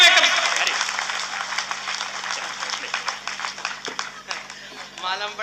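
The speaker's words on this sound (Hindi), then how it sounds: "पूरा सदन जोरदार ताली बजाकर बताइए" An audience at a Hindi kavi sammelan poetry gathering claps strongly, dense applause fading gradually while someone talks over it.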